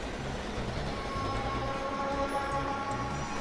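A train in the video game Plants vs. Zombies: Garden Warfare rumbles past, a steady, loud rolling drone with faint tonal whine, no voices over it.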